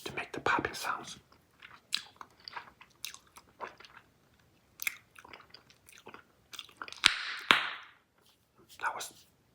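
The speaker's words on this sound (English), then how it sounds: "It's quite a bit harder to make the popping sounds from Big League Chew" Big League Chew bubble gum is chewed up close in wet, smacking bursts with soft clicks and a few sharper snaps, broken by brief pauses and breathy whispering.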